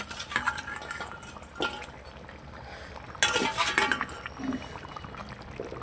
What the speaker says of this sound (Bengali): ভাজা ট্যাংরা মাছগুলো দিয়ে দিচ্ছি